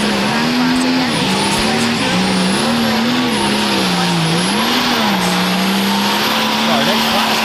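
At a truck and tractor pull, a pulling tractor's engine roars loud and unbroken for the whole stretch, its pitch wavering up and down as it strains down the track, with a voice faintly under the roar.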